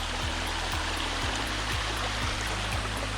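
Shallow stream, about half an inch deep, running over solid rock faces on a forest trail, a steady, close rushing wash of water with no break and no voices.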